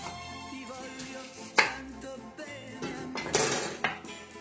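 Pieces of meat for a ragu going into a big cooking pot, with a few metallic clanks and clinks of pot and utensils against a low kitchen background.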